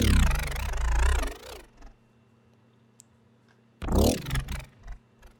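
A Citrus synth patch meant as the starting point for a growl bass plays two loud, wobbling, harmonically rich bursts separated by near silence, close and alone.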